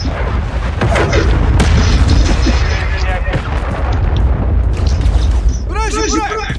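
Missile strike in Call of Duty: Modern Warfare 3 on PC: loud, continuous rolling booms and blasts, with voices calling out over the barrage.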